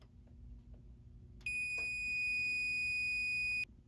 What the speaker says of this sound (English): the smoke detector kept reactivating